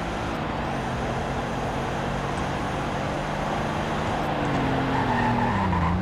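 A 2019 Buick Cascada, a front-wheel-drive convertible, turning hard with a steady engine drone and tires squealing, rising slightly near the end, loud and continuous with no talking.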